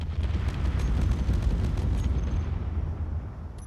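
Turret fire in the space game Space Engineers, heard as a dense, continuous rumble of booming shots with heavy low-end weight, sustained and loud throughout without clear gaps.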